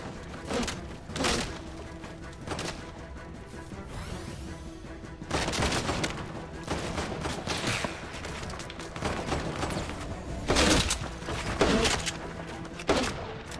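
Video game gunfire crackles in repeated bursts, with several loud volleys and rapid fusillades spread across the stretch, close and punchy, with no talk.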